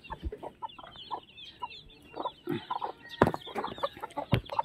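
A mother hen clucks repeatedly in short, soft bursts, close by, with scattered chick peeps and light rustling between the clucks as she leaves the nest with her chicks.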